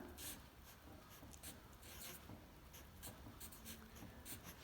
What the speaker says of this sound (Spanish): voy aquí a ponerlo con lápiz rojo para que se note mucho más